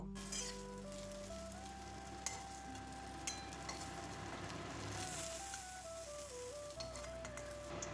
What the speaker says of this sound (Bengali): এবার ওই তেলেই কেটে রাখা পটল দিয়ে দিলাম।